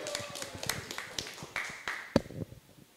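A few people clap for Abel during a football talk show, loose and uneven, close by and brief, dying away after a couple of seconds.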